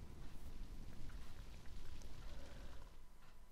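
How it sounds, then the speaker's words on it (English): Steady rain falls in the Grand Theft Auto III video game, a soft continuous patter and hiss spread evenly throughout, fairly quiet and with no talking over it. "And it's raining."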